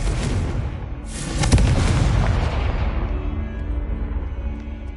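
A loud, booming burst as the Confringo blasting spell explodes in a Harry Potter video game, followed by a rumbling decay and faint tonal game effects.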